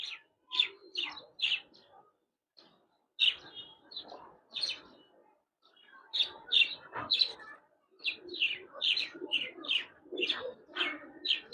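Giribaz pigeons of the Palla line coo and chirp inside a loft in repeated bursts separated by short pauses, moderately close, with occasional wing flutters.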